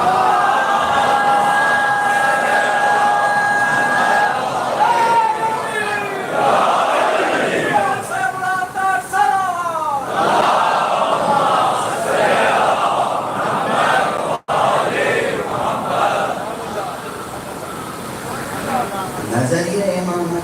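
A large crowd at a Muharram religious gathering chants slogans and salawat in loud, rhythmic unison, the voices rising and falling in waves across the whole stretch.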